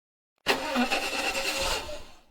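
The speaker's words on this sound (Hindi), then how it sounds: "अरे यार ये स्कूटर स्टार्ट क्यों नहीं हो रहा है?" A scooter engine tries to start, cranking loudly and close for a couple of seconds without catching, then cutting off abruptly.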